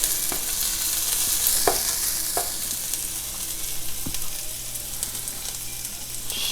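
Onion and garlic sautéing in a pan for Filipino pinakbet, a steady broad sizzle running throughout with a few sharp stirring clicks and scrapes near the start, no voices.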